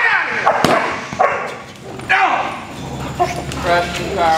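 An eight-month-old sable male German Shepherd barks in several sharp bursts, close and loud, with someone talking over and between the barks in an outdoor training session.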